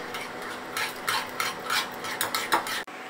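Batter with oregano and salt being whisked in a bowl, quick rhythmic clinking and scraping strokes in uneven bursts, close and moderately loud, ending in a sharp knock.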